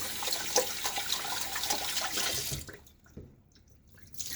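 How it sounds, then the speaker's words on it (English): Water runs from a sink tap as a shaving brush and bowl are rinsed, a steady broadband splashing for about two and a half seconds before cutting off, followed by faint drips and quiet handling. "we also end up rinsing our bowl out when we do that"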